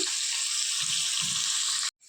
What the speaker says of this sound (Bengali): আলুগুলো ভাজতে বসিয়ে দিয়েছি।